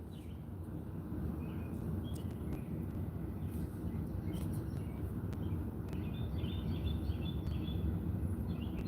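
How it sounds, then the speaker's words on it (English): Outdoors, small birds chirp and tweet in short scattered calls, fairly faint over a steady low rumble of distant traffic or aircraft. "Yeah, they're CIA birds."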